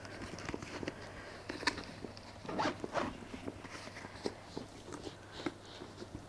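The zipper on an Alexander McQueen bag pocket is handled in a quiet run of short rasping pulls and clicks, faint and close, with light rustling between them.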